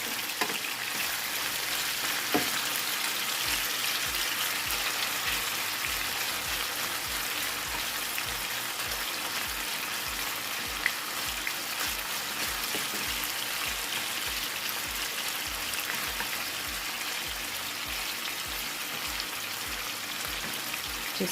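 Chicken pieces frying over a high flame for a Chinese chicken and broccoli dish: a dense, loud, continuous sizzle like heavy rain, with occasional faint clinks and stirring.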